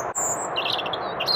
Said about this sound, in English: it's a bird that you can see and hear all year round as it sings throughout the year to defend its territory